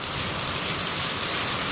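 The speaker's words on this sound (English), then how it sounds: "It is pouring down." Heavy rain pouring down outdoors, a dense, steady roaring hiss with no break or talking.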